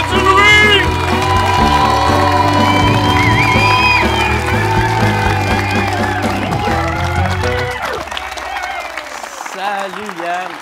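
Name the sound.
audience applauding and cheering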